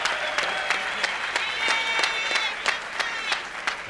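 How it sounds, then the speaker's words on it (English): A boxing arena crowd applauds both fighters after the final bell, a steady wash of clapping with distinct sharp claps spiking through at irregular intervals. "let's give both these gladiators a round of applause for a very gallant effort"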